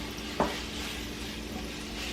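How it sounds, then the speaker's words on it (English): Food sauteing in a hot pan for a creamy chicken stroganoff gives a steady, fairly loud sizzle throughout, with one brief clink or stir sound near the start. "we're really not frying them, we're just sauteing them for them to get a little brown on the sides"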